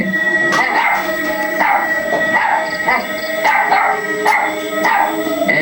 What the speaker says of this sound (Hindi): चुड़ैल को देखकर भौंकने लगता है